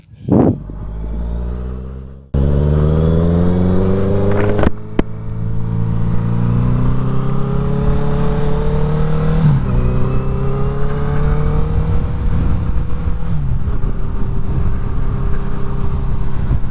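A motorcycle starts up and rides off, its engine climbing in pitch through the gears with rising and falling harmonic sweeps, loud and close, after a brief lower rumble at the start.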